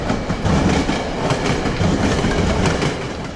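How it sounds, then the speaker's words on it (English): A seven-car Metro-North deadhead of blue-stripe Shoreliner coaches, pushed by a P32 AC-DM locomotive, rolls past close by on track 3 at South Norwalk with a steady clickety-clack and a dense rushing roar. "7 Blue Stripe Metro North-owned Shoreliner cars file past with boring Blue Stripe P32 ACDM 226 pushing with its e-bell and headlights on"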